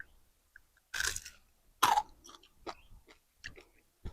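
Crispy deep-fried small fish being chewed close up, a few loud crunchy bites followed by softer, irregular chewing sounds in an otherwise quiet setting.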